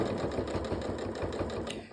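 Domestic sewing machine stitching down quilt binding in the ditch, a steady rapid mechanical whir and needle chatter running continuously at close range with no talk.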